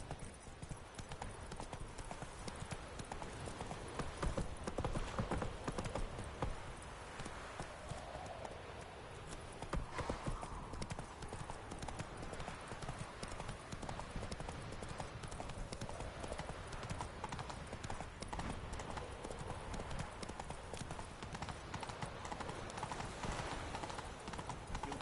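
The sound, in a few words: horse Roach hooves clip-clopping in a video game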